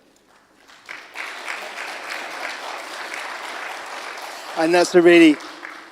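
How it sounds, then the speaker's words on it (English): Audience at an annual general and members' meeting breaks into steady applause lasting several seconds, followed by someone speaking loudly over the tail end. "So can I just a quick round of applause to Gemma, to Teresa, Anna, and Evelyn."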